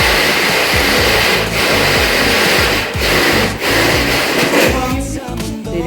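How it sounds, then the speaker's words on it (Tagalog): A power drill runs loudly and steadily on site during house construction, with brief pauses and a bit of grinding near the end, no talk over it. "Dinidrill na nila kuya."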